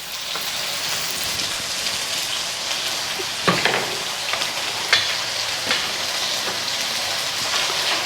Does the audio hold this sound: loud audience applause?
no